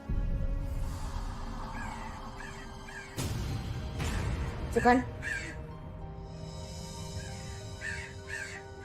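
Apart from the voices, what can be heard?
crow cawing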